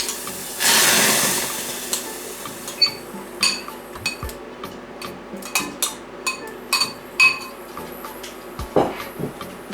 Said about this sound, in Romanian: Într-o cratiță punem dulceața la încălzit.